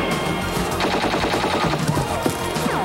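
Rapid gunfire from the action film Omega Cop crackles in dense, machine-gun-like bursts, loud and continuous throughout, mixed with the film's other soundtrack noise.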